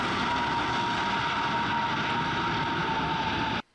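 A Boeing 377 propeller airliner in GTA 5 drones past close and loud, a steady dense engine roar with a faint tonal whine that holds evenly, then cuts off abruptly at the end.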